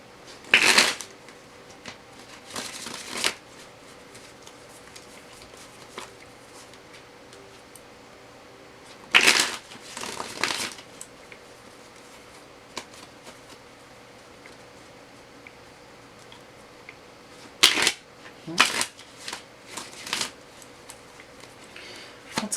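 Tarot cards shuffled by hand for a reading, a few separate bursts of riffling and rustling spread across a quiet room, close and fairly crisp with silent pauses between.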